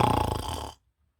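A wolf's loud snore is voiced as a rough, rhythmic guttural rasp, a single drawn-out snore that stops abruptly, performed by a storyteller's voice imitating the sound.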